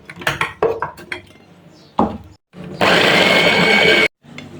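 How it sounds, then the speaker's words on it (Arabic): Onion is minced for homemade hawawshi: a few sharp clinks and clatters of utensils, then a loud, steady whirring burst of chopping that lasts just over a second before cutting off. "بعدين ايه افرم البصل بقى"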